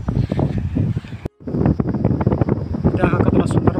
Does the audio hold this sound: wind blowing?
yes